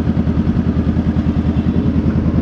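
Honda Rebel motorcycle on the move, its engine putting out a steady, close, rhythmic low thrum with fast regular pulses and no talk over it.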